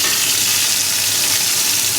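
A Maytag washing machine with its front panel removed fills with water, a steady close rush and hiss of water pouring in under pressure, continuous and alone for the whole stretch.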